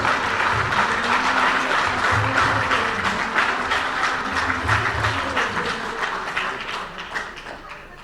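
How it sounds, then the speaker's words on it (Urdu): An audience at an army seminar clapping steadily, a dense and fairly loud wash of many hands that holds for several seconds and slowly fades toward the end. "فوج کی ڈیووشن کے لیے کلیپنگ ہونی چاہیے"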